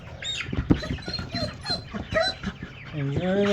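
Broiler chickens cluck and squawk while being moved to pasture on a homestead, with busy close-up clucking and a sharp squawk near the end, and a person talks among them.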